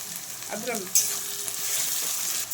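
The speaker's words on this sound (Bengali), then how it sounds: "পেঁয়াজটা ভালো করে ভেজে নেব" Chopped onions with salt sizzle in a pan for a katla posto fish dish, a close, continuous frying hiss with a brief stir, no talking.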